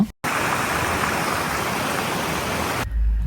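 A steady, loud rush of falling water at Bongadari waterfall fills the air without pause, close by and unbroken except for a brief dropout at the start.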